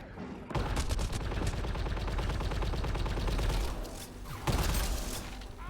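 Rapid gunfire from a shotgun in Mass Effect Andromeda multiplayer combat, dense repeated blasts running almost continuously over a busy game-battle backdrop, with a short lull before a final burst.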